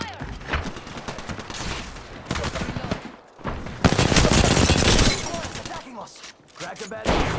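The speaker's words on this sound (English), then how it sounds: "I am taking fire, friends." Dense automatic gunfire in an Apex Legends firefight, loud and continuous bursts with a sharp crackle, close to the listener and without speech over it.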